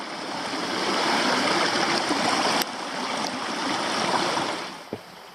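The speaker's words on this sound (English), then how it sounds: "I'm pretty sure there's actually two creeks converging here as well" Rushing water where two creeks converge at a waterfall on a mountain circuit near Mt Ossa, a loud continuous roar with a couple of small knocks, close by and without speech.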